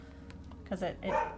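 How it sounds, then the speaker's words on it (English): A dog barks at passing vehicles outdoors, two or three short barks close by, with a person talking over them. "he is barking at every vehicle today"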